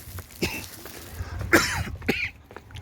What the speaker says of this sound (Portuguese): quando vai passando o efeito do remédio, eu volto a tossir